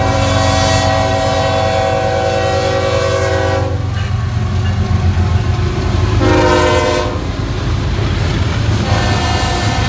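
CSX coal train rolling through Princeton, Indiana, very loud and close, with long sustained horn blasts over the heavy rumble and clatter of passing cars.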